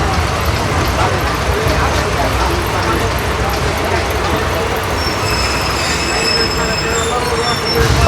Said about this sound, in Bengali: স্টেশনে কিন্তু ট্রেনটা দাঁড়ালো